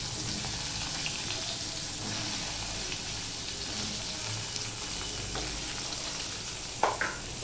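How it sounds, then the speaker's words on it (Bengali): Long strips of plain eggplant, with no salt or turmeric, fry in hot oil in a wok. The sizzle is a steady, even hiss that carries on throughout, with a brief clatter near the end. "এই বেগুনগুলো আমি এবারে ভেজে নেব।"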